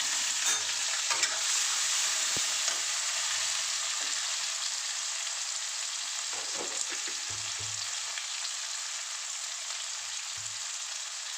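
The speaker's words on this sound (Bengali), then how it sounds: "এবার আমি এখানে পেঁয়াজ দিয়ে দেবো।" Onions for an Aar fish curry fry and are stirred in a pan, giving a steady, close sizzle with occasional scraping strokes and no speech.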